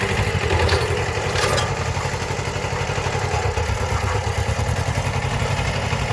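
A tractor engine runs loudly and steadily close by, with a rhythmic chugging clatter throughout and no voices, during weeding of a potato field.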